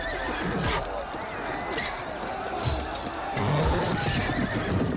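Horses whinny amid a noisy battle scene from the film Braveheart (1995), with hoof clatter as cavalry charges and a voice in the background.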